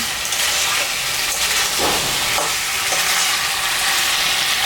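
Taro and fish head curry sizzles and bubbles loudly in a pan as water goes in, a steady frying hiss with a few sharper bursts of steam, close and continuous with no talk.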